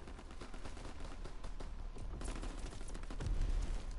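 Gunfire in a WW2 battle, with rapid bursts of shots crackling in a dense, continuous volley and heavier booms swelling near the end, at moderate distance.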